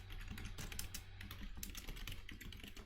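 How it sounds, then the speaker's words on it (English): Rapid keystrokes patter on a computer keyboard as code is typed, a steady, busy clatter of clicks with no pauses over a low background hum. "Typing the code in the view."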